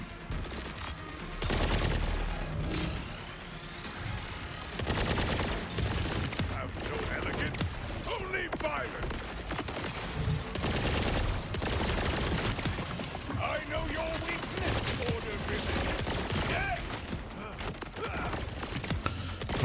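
Missiles fire at a boss in the video game Borderlands 4 in dense, rapid volleys of blasts and mechanical clatter that go on almost without a break, with a player's voice talking in places.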